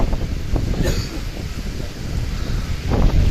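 Strong, gusting wind from Cyclone Remal at Sadarghat on the Buriganga river, roaring continuously with buffeting rumble and choppy water noise under it, loud and close with no voices.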